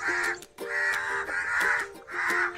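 Crows in a quiet village morning give four loud, close caws in a steady rhythm, each about half a second long.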